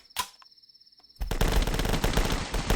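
Loud sustained automatic gunfire from The Last Stand video game bursts in after a brief quiet tone and short click, a dense rapid stream of shots continuing to the end.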